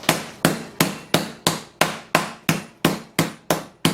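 Steady, evenly spaced thuds of the flat side of a mallet pounding chicken flat on a hard surface, about eleven loud, sharp blows in a regular rhythm.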